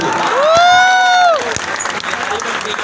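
College audience breaks into applause and cheering, a loud whoop or whistle rising over the crowd early on, then continued clapping with shouting and voices mixed in.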